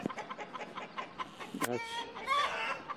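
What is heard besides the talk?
rooster and hens squawking in alarm at a stork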